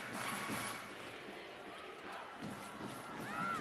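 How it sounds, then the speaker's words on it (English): Stadium crowd at Rizal Memorial serenading the Philippines women's team at the AFF Women's Championship: a fairly faint, distant wash of many voices singing and cheering, with no clear individual speech. "listen to the crowd here at Rizal Memorial serenade our girls"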